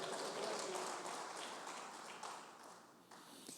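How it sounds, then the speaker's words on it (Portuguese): A church congregation claps steadily during a Portuguese-language sermon, a dense, faint patter of many hands continuing throughout without a break. "As palmas para ele"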